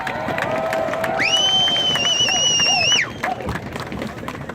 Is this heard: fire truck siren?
no